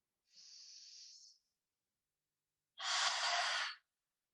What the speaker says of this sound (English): take a deep inhale through the nose and release that breath through the mouth